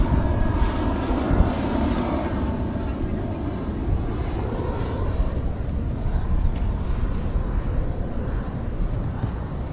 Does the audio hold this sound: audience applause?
no